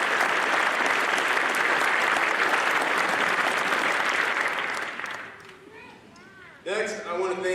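A graduation crowd at a law enforcement academy applauds loudly and thickly, then the clapping fades away and a voice starts speaking near the end.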